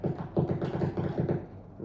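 An Arturia Jupiter-8V software synth with every envelope setting at zero plays a rapid run of short, clipped notes, each a dull, muffled tap in a steady footstep-like rhythm, quiet and dry.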